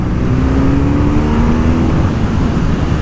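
A BMW R nineT boxer motorcycle with a Euro 5 exhaust runs at a steady, loud drone, with a faint rising whine partway through and no talk.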